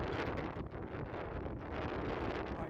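Wind buffets a bare phone microphone with no external mic during an afternoon walk along the Las Vegas Strip, a loud continuous rumbling roar that swells and dips slightly without pause.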